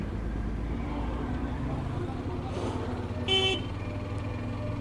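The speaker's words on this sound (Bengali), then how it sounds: "ফিল হর্নের সাউন্ড একটু চেঞ্জ লাগতেছে কেন" A short, nasal horn on a Hero Xtreme motorcycle, sounding altered, honks once over a steady low engine and traffic rumble.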